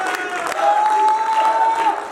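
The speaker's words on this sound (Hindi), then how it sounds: "भरपूर तालियां हो जाए।" Brief, moderately loud applause from an audience at an Urdu stage play event, crowd clapping blended with some voices and a thin whistle-like tone.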